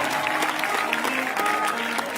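A crowd at a Gujarati dayro folk gathering applauds a woman singer with steady, dense clapping, while faint sustained musical tones linger underneath.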